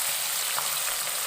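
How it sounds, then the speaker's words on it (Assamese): Small fish frying in a pan for a ginger fish dish, giving a steady, dense sizzle and crackle that holds evenly throughout, close up and alone with no voices. "মাছখিনি অলপ কমকৈ ফ্ৰাই কৰি ল'ম"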